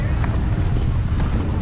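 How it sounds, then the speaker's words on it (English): Wind buffeting a microphone during an outdoor aviation event, a loud, continuous low rumble with gusty fluctuations throughout the short stretch. "We're gonna enjoy our wind noise for a little bit."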